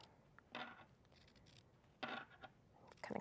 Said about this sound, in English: cut into each corner, as close as you can without cutting the stitches themselves